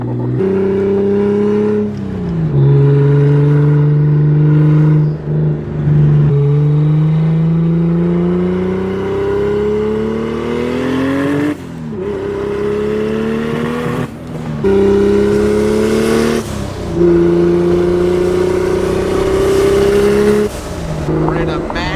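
Manual BMW E30 wide body with a swapped 2JZ engine revving loudly and close, rising and falling through several gear pulls while cruising on a beach.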